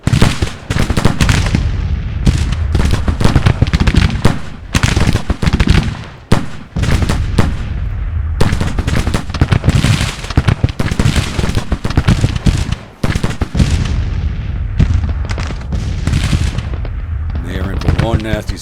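Artillery booms and crackling musket gunfire from a Grand Tactician Civil War battle, loud, dense and continuous with sharp irregular volleys and brief lulls, no talk.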